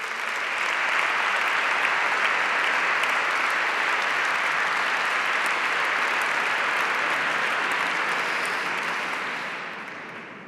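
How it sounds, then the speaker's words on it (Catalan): Ceremony audience applauding at the Balearic Islands Day celebration, about 500 people clapping steadily and densely for around nine seconds before tapering off; no voices over it. "Un aplaudiment per ell."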